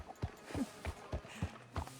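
Horse hooves in the video game Red Dead Redemption II, a steady walking clip-clop of about six evenly spaced muffled thuds, fairly quiet and with no talk.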